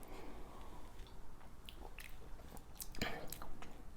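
Mouth noises of Wild Turkey 101 bourbon being chewed and swished across the palate, a close, wet run of smacks and squishy clicks that grows busier toward the end, with no talking.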